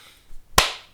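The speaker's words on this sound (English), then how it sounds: "Clap." A single sharp hand clap rings out once, close and loud, after a brief soft rustle.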